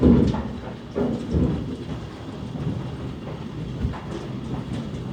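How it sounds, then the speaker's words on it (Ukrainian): A strong thunderstorm with gusting wind outside a window: a dense, steady roar of wind and rain with deep rumbles of thunder rolling through, loudest near the start and again around the middle, with no voices. "І воно ще й гримить і блискає"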